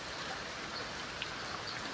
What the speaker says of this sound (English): It's raining, guys, and I am happy to see it